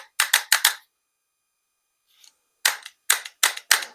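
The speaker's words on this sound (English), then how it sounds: "So we're just pushing the buttons on the back right here." Clicks of the selector buttons on the back of an AR-15 digital trigger from Digital Trigger Technologies, a close, crisp burst of about four quick taps, a pause, then five more spaced clicks.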